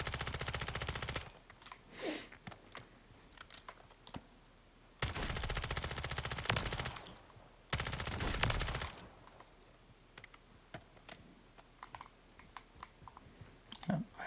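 Submachine gun fire in a first-person shooter, heard as several loud sustained bursts separated by quieter clicks and handling noises.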